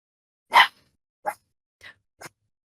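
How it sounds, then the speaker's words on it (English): A dog barks at home as movers arrive: four short, close barks spaced apart, the first loudest and the rest fading, with quiet in between. "I think the movers are coming in. Luna's about to bark"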